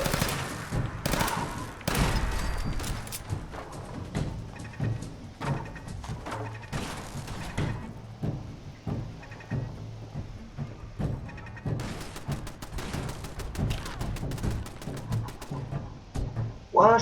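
Automated turret gunfire in Fallout 4, rapid bursts of shots and thuds in repeated volleys over game ambience, loud at first and continuing in clusters throughout.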